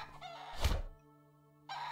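In the video game Above Snakes, a chicken is struck with a single dull thunk, followed by a brief squawking cry, near and moderately loud, with no talk.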